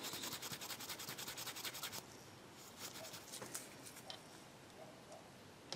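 Brisk rhythmic rubbing of paintbrush bristles during brush cleaning, a quiet close scratchy swish repeated rapidly at first, then slower scattered scrapes and taps.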